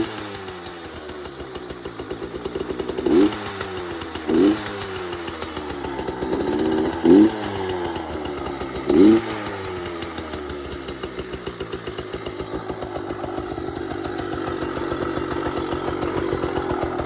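A Yamaha PW80 dirt bike with an FMF exhaust and Boyesen reeds idles with a loud, rattly two-stroke putter, revved in four short blips before settling back into a steady, even idle.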